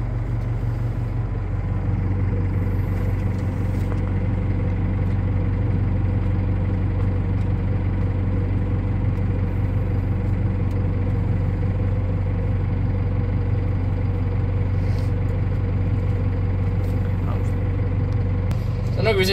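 A Valtra N135 Direct tractor's engine runs at a steady idle-like hum throughout its transmission calibration, close and constant, with a couple of brief clicks near the end.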